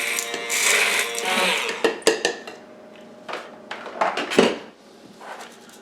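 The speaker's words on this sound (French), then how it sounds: "Ici, je vais pulvériser le gruau pour en faire une farine." A kitchen appliance grinds oats into flour in a short, loud whirring burst, then stops. Clattering knocks and clinks of the container and lid follow.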